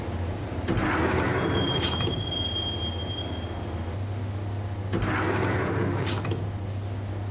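Train ride in the Max Payne video game, a subway car rolling along with a steady low rumble, rhythmic wheel clatter and faint high squeals, no voices.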